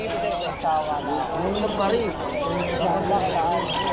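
Pet birds chirp and tweet steadily in a busy pet market, a dense layer of close calls running under ongoing conversation.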